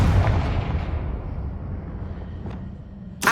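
A Confringo fire spell in Hogwarts Legacy bursts with a loud booming blast that rumbles and fades over a couple of seconds, followed by a sharp crack at the end.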